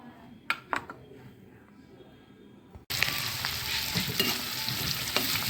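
A few utensil clinks and quiet tapping in a pan first, then onion, curry leaves and coriander drop into oil with cumin and mustard seeds and burst into a loud, steady sizzle that runs to the end.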